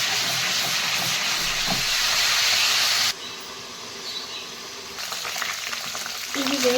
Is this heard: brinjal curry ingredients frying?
yes